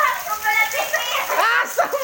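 Rain falls steadily while girls play out in it, their excited voices and shrieks carrying over the hiss of the downpour; people talk throughout.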